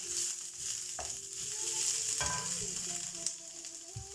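Vegetables for Thai drunken noodles stir-fry quietly in a pan, a soft steady sizzle with a few sharp clinks and scraping stirs scattered through.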